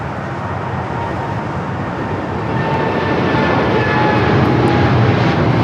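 A Korean Air Cargo Boeing 777 departing LAX roars in a broad, steady engine rumble that swells gradually as it climbs, loud and close.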